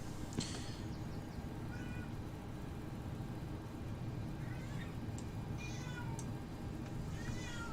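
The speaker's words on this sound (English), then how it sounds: "You can hear the cat meowing." A house cat meows several times, faint and somewhat distant beneath a constant low hum, the short rising cries scattered across the stretch.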